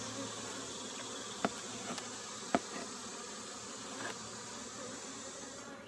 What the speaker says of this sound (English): Lots of bees, though.